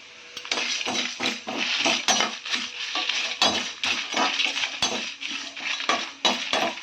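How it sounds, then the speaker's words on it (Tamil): Spices dry roasting in a pan without oil, heard as a rapid, continuous series of close metallic scrapes and clinks from a utensil stirring against the pan, with no voices. "எண்ணெய் ஊற்றாமல் நம்ம எல்லாத்தையும் நல்லா வறுத்துக்கலாம்."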